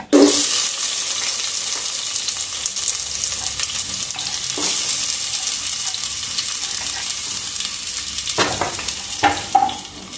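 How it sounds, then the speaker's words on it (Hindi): Onions frying in hot oil for chicken biryani, a steady close broadband sizzle running throughout with a few louder crackles and stirring clatters near the end, no talking. "तो इसे अच्छी तरीके से गोल्डन हुए तक भूनेंगे तेल में।"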